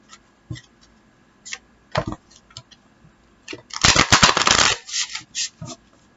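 A deck of tarot cards is shuffled up close: scattered light taps and flicks build into a dense riffling burst of card edges, then ease back to soft handling sounds, with no voices.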